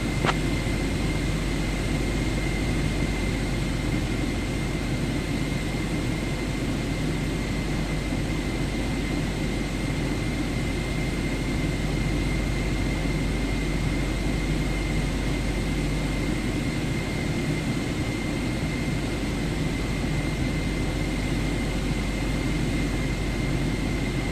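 Aircraft taxiing in Microsoft Flight Simulator 2024, a steady, droning engine hum with a constant tonal whine, even and unbroken throughout with no talk.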